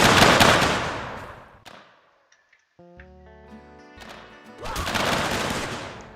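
Musket and rifle volleys crackle in a Civil War mod of Mount & Blade Warband, two loud bursts of rapid overlapping gunfire framing a quieter stretch of ringing game tones between them.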